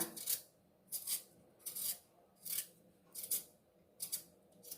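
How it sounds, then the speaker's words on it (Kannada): Potatoes being peeled for potato bajji, six evenly spaced short scraping strokes, each a crisp rasp, close and fairly quiet with no talking. "ಆಲೂಗಡ್ಡೆನ ನಾವು ಪೀಲ್ ಮಾಡ್ಕೊಳ್ಳೋಣ ನೋಡಿ ಆಲೂಗಡ್ಡೆ ಇದೆಯಲ್ಲ ನೋಡಿ ಈ ಥರ ಇದನ್ನೆಲ್ಲ ಸಿಪ್ಪೆ ತೊಗೊಂಬಿಡೋಣ"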